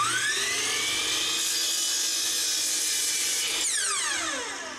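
A miter saw at a miter saw station cuts rough cabinet door lumber to length: a loud, steady high whine lasting several seconds, then the pitch drops sharply as the blade spins down near the end. No talking.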